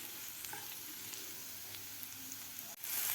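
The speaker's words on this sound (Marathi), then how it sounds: "कांदा असा सॉफ्ट होईपर्यंत आपल्याला हे कांदा भाजून घ्यायचा आहे" Chopped onion fries in a pan until soft for a dhaba-style kaju masala, giving a soft, steady sizzle close by and a brief scrape near the end, with no talking.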